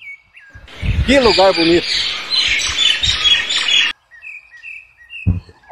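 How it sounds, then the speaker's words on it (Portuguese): Many small birds singing in the bushes by a reservoir, with bright chirps and tweets throughout, a clear squawking call near the start, and a person speaking briefly over them before a short pause. "Tem muitos passarinhos por aqui nesses matos cantando."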